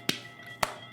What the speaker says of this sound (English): there seems to be a disembodied clapping taking place in the studio